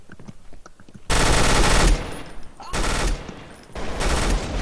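In the video game Garry's Mod, an AK rifle fires loud, close automatic bursts, three long sustained volleys separated by short gaps, with faint game noise between them.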